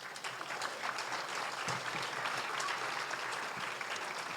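Sustained audience applause at a pollinator pathways talk, steady and dense clapping filling the room for several seconds as two speakers, Joey and Robin Grossinger, are welcomed.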